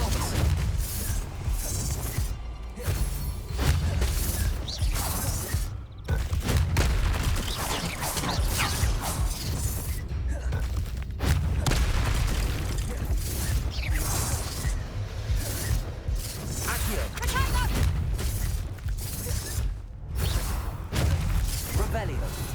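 Hogwarts Legacy spell combat with Expelliarmus in the Haunted Hogsmeade quest: a steady barrage of loud magical blasts, crashes and impacts with brief pauses, while voices shout throughout.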